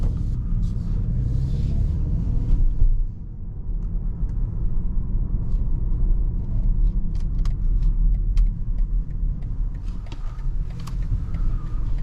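A 2023 BMW X1 28i moves along a road from inside the cabin, a steady low rumble of engine and tyres heard up close. A few faint clicks and taps sit above the drone, and no one speaks.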